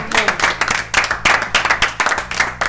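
Steady applause from a small group, a dense patter of hand claps that stays close and fairly loud throughout.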